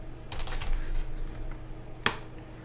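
A password is typed on a computer keyboard in a short burst of quick, light key clicks, ending in one sharper key press, all fairly close and quiet.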